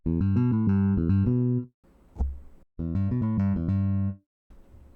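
An electric bass, a Jazz Bass sound from a software instrument, plays a short run of deep, sustained notes, pauses for a muted thump, then resumes a similar phrase.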